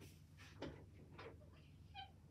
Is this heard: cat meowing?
yes